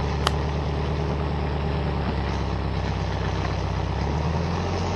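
An engine idles a little fast, then pulls away smoothly in first gear without throttle on a hill, a steady loud low rumble close by with no talk.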